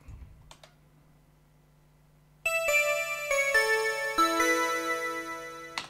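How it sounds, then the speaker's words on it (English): Bell-like synthesizer tones ring out in a few struck notes with long sustaining decays, following a quiet stretch with faint clicks and a low hum. "Okay, and then we have the bell sounds"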